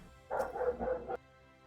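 A dog barks in a quick burst of several yips blended together, fairly faint and distant indoors, with no talk over it.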